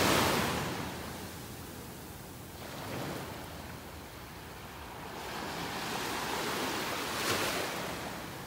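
Waves washing onto the beach in North Naples, Florida, a steady broad rushing hiss with gentle swells and a little wind buffeting the microphone, continuous and fairly soft with no voices.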